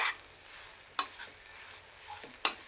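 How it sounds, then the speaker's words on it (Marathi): Semolina roasting in ghee and being stirred over medium heat in a pan for coconut modak, a soft steady sizzle with a few sharp scraping knocks of the spoon, no talk. "आपल्याला हा रवा तुपात भाजून घ्यायचा आहे"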